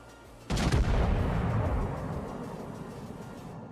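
Battleship main guns fire in World of Warships as one sudden heavy boom with a rolling low rumble that slowly fades, loud and close, with no talk over it.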